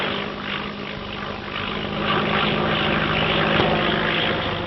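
A propeller airplane drones steadily overhead, a continuous loud engine hum with a throbbing rotor beat that swells slightly toward the end, with no speech heard.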